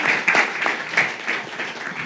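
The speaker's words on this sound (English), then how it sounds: "I think it deserves a round of applause" A conference panel audience applauds with steady, dense clapping that swells slightly in a few places, with no talking over it.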